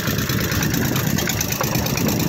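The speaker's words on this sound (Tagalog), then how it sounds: "Yung ating makina naka-autopilot ulit." A fishing boat's engine runs steadily on autopilot, a continuous mid-pitched idling drone with even loudness throughout and no voices.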